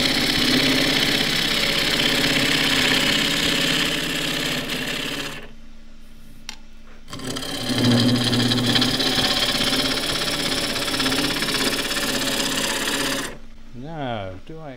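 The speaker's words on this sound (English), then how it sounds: "just using the left wing of the tool and the full curve on the edge, just takes a slightly thicker shaving" A gouge on a wood lathe cuts shavings from a thin pot made with traditional gouges, a loud close rushing hiss over the spinning lathe's hum that breaks off briefly midway and stops near the end.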